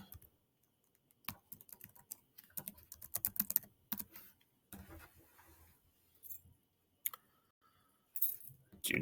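Fast, light clicks of a computer keyboard come in irregular bursts with short pauses as login details are typed, quiet and close.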